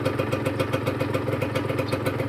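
A rebuilt Honda NSR150RR two-stroke motorcycle engine runs at a steady idle, heard close up, with a rapid even pulsing beat and a light mechanical clatter and no talking.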